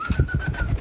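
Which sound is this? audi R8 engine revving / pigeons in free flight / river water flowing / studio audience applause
pigeons in free flight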